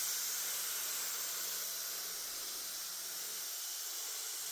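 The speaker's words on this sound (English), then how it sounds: "I'm just watering these with a sprayer attachment that's connected to my garden sink" Sprayer attachment on a garden sink hose misting water over indoor seedlings, a steady soft hiss of spray running continuously at close range with no talking.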